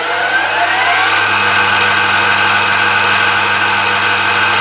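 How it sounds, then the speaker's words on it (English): Emco Maximat V10-P metal lathe running steadily at 2,500 rpm on the motor's second speed, a continuous close mechanical whine and hum with a steady pitch and no talk. "And if I whack it up onto the second speed on the motor,"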